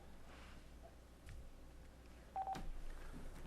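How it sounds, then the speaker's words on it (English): Telephone keypad tones beep in a short burst as a call is dialed on speakerphone, faint against a quiet room hiss, with a few soft handling clicks. "Dean's in the process of getting Mike on the phone"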